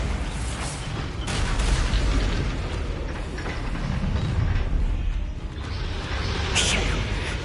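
A Bombarda spell blast in the game Hogwarts Legacy lands as a booming, rumbling explosion amid continuous combat noise, with brief bright bursts layered over a heavy low roar.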